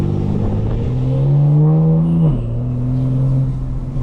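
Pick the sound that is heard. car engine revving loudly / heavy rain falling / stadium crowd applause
car engine revving loudly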